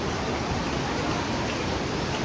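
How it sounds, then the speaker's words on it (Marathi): Rain falls steadily near a temple, a dense, even wash of drops with no voices and no breaks. "पाऊस पडत आहे अजूनही."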